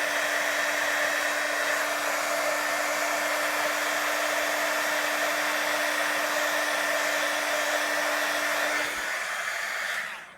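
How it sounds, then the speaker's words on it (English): A heat tool blows steadily to melt copper embossing powder on a handmade anniversary card, making a loud, constant whirring hiss close by that runs unbroken before switching off at the end. "I'm going to heat that up with the heating tool"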